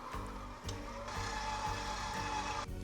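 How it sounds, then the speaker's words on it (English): An electric mixer on low speed blends flour and baking soda into cake batter, giving a steady motor whir with a rhythmic thumping pulse that runs the whole time. "Give it a little mix on low."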